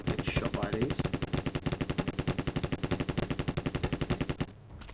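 Rapid automatic gunfire in the Terminator: Future Shock video game, a loud, fast even burst of shots lasting several seconds before cutting off abruptly.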